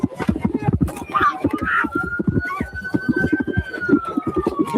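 Police sirens wail from a played news video, a rising and falling electronic tone running steadily through the clip beneath busy, overlapping chatter and background noise.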